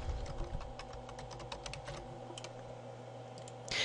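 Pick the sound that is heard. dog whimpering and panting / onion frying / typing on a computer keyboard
typing on a computer keyboard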